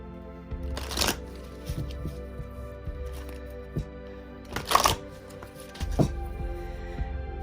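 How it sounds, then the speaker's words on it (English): Short bursts of a Black Moon Astrology card deck being shuffled, several quick riffling flurries spread across the stretch against a low steady hum, close and fairly soft. "I am going to get an astrology card. This is from the Black Moon Astrology deck."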